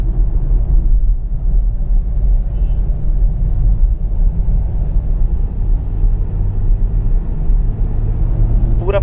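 Hyundai i10 Nios petrol hatchback cruising on a highway with steady engine and road rumble inside the cabin as the driver shifts gear, a truck ahead; the drone stays constant throughout, with no talk.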